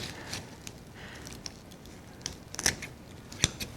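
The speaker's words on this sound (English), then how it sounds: "we're going to snip off these roots" A few sharp scissor snips cut the roots off garlic bulbs being cleaned for braiding, two crisp clicks standing out near the end over faint, quiet background handling.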